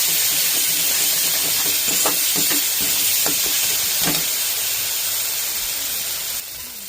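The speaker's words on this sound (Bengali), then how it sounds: "এবার জিনিসটাকে নেড়ে নেড়ে একটু ভেজে নেব।" Spices with salt, turmeric and chilli powder hiss and sizzle steadily in a hot pan, a loud, even frying noise with faint soft scrapes of stirring, close and unbroken, with no voices.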